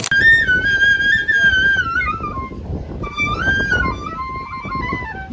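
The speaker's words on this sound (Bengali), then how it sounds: "চরের এই দোকানদার কাকু মনে সুরে বাঁশি বাজাচ্ছিল" A shopkeeper on a seaside char plays a melodic tune on a bamboo flute, two clear flowing phrases with a short pause between, close and alone.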